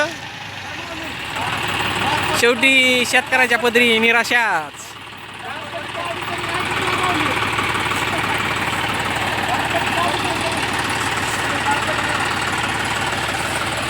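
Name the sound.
tractor engine running, stuck in a muddy field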